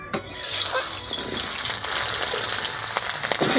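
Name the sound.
potatoes frying in oil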